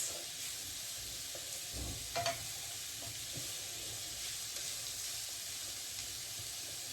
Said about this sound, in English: I'm just going to fry these vegetables until they get soft, and then I'll add my mince